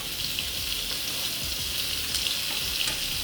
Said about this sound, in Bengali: এবারে আমি এই মাছের তেলের মধ্যেই, আর তেল দেবো না, এর মধ্যেই দিয়ে দিচ্ছি পেঁয়াজ কুচনো